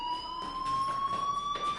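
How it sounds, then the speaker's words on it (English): A fire alarm rings in a steady high electronic tone with faint pulsing, holding continuously at moderate loudness with no talk over it. "do you hear that fire alarm?"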